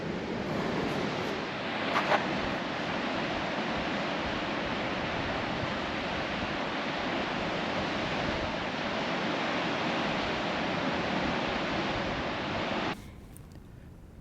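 Ocean waves and wind on a beach, a steady, broad roar of surf and gusting air that continues without a break for about thirteen seconds and then drops off abruptly, with no voices.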